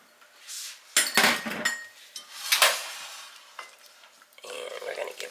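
A spoon stirs milk, pumpkin, pumpkin pie spice and cinnamon in a pot, scraping and clinking against the metal in close, uneven strokes.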